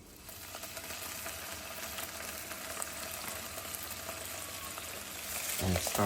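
Marinated Spam sizzles steadily in olive oil over light heat, a soft continuous frying hiss with faint stirring scrapes that swell slightly near the end.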